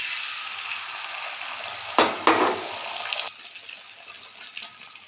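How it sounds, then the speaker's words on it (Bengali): Beaten eggs with salt, cheese and chilli flakes poured into hot oil in a pan, bursting into a sharp, loud sizzle that fades to a quieter, steady crackle. "প্যানে তেল দিয়ে দিচ্ছি, গরম হয়ে গেছে। এবার ডিমটা দিয়ে দেবো।"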